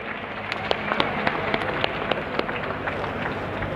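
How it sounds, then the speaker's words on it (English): Scattered clapping from English supporters at the back of a World Cup match between England and Sweden, sharp claps popping over a steady hall ambience after a good point. "Nice to see our English supporters at the back giving that a clap"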